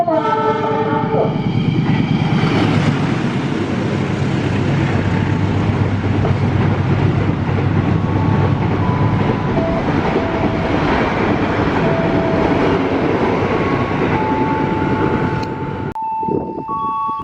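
A long passenger train rolls into a station with a loud, continuous rumble of wheels and cars, a horn sounding near the start and distant tones later, before the noise drops away at the end.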